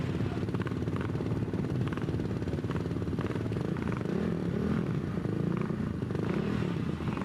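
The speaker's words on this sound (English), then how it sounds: "It sounds as if the engine's running again." A Velocet hillclimb racing car engine running at a championship hillclimb course, a continuous rough mechanical drone with rattly pulses, steady and moderately distant, with a commentator faintly present.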